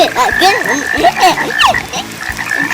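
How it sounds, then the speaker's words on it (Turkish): Small frog croaking at a pool, loud and close, repeated rapid croaks in quick succession with no talk over them. "Arkadaşlar bakın kurbağa var küçük kurbağa."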